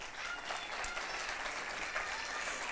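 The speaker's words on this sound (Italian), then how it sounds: "Facciamo un applauso più forte a Gaia" An audience claps for Gaia Massetti, winner of a jury prize at a festival show, with a steady, dense burst of applause holding even throughout.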